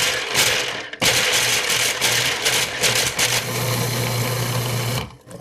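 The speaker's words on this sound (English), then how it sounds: "we'll start by popping our almonds into the food processor, and we're just going to pulse it until it's a fine powder" Whole almonds pulsed in a food processor until powdery: a loud motor whir with rattling nuts runs in short bursts, a brief stop near the start, then one long run that cuts off.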